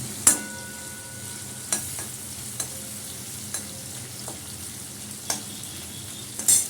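Ginger paste fries in a pan for a vegetable curry, a steady soft sizzle broken by several sharp scraping knocks of a spoon stirring at irregular intervals, close and fairly quiet.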